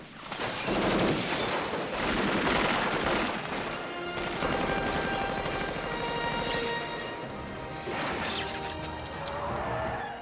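Gunfire and crashing impacts from a RoboCop (1987) film scene where police turn on the cyborg, a loud sustained barrage of shots, smashes and metallic clatter with rumbling background.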